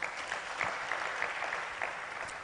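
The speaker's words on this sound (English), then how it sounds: "I think we should give him a round of applause, he deserves it" A conference audience bursts into steady applause for Dr. Afolabi at an African development issues gathering, a dense, even wash of many hands clapping throughout, moderately distant and without speech.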